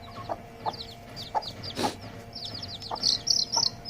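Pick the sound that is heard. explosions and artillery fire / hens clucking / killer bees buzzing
hens clucking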